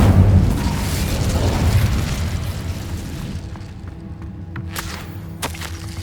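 An Incendio fire spell bursts in Hogwarts Legacy, a loud whooshing blast that fades over several seconds, with a couple of sharp crackles near the end, no talking.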